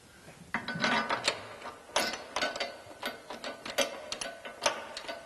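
A ratchet tightening 13mm body mount bolts on a Jeep Gladiator during a rocker guard install, with rapid close clicking bursts in an uneven rhythm and no talking.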